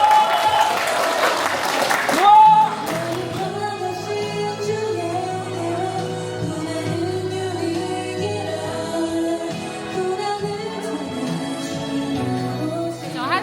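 Audience applause at a Korean charity project event, a steady wash of clapping that swells near the start and then carries on evenly beneath a tonal, music-like bed for over ten seconds.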